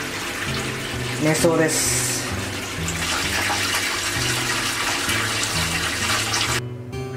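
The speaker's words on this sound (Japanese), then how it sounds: "速攻風呂入って" Water runs into a bath in a hotel bathroom at Hotel MyStays Asakusa, a steady rushing flow under background music, with a brief spoken voice.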